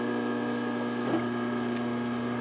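A sewing machine bar tacks a fabric roller towel, putting out a steady motorized hum with faint tonal whine, close and even, with only slight variation throughout.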